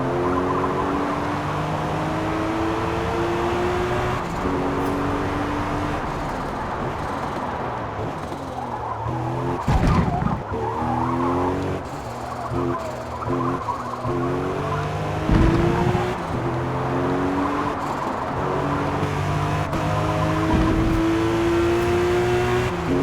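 A race car in Forza Motorsport laps the track from the bumper cam, engine revving up and down through repeated gear shifts, with tire squeal and a few thumps, loud and continuous with no talk.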